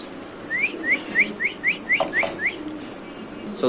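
Large pigeons at a pigeon farm, a string of about eight quick rising chirps or whistles in even rhythm over soft background murmur, with a couple of brief knocks.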